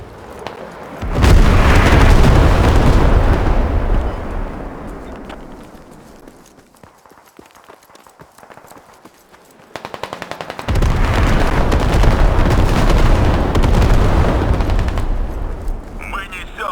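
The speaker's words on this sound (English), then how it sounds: "Watch out for artillery." Loud, dense bursts of gunfire and booming explosions in the Squad video game roll through two long stretches, with a quieter lull between them.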